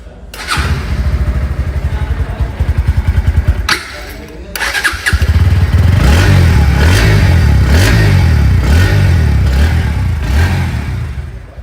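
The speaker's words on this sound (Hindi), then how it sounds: "अब आपको सुनाते हैं NS 160 डुअल चैनल ABS का एग्जॉस्ट और इंजन का साउंड।" A Bajaj Pulsar NS 160 motorcycle with dual-channel ABS starts up, idles with a loud pulsing exhaust, cuts out briefly, then restarts and is revved repeatedly in rising and falling swells, recorded up close.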